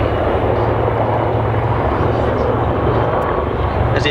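A Royal Navy Wildcat helicopter flying an airshow display, heard as a steady, dense rotor and engine roar from some distance that holds evenly throughout with no pauses.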